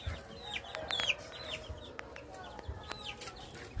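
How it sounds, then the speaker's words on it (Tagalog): Soft, scattered clucks from nine breeding hens over a steady backyard background, with a few brief chirps and clicks, fairly quiet and moderately close. "Nasa 9 po ang aming mga inahin dito."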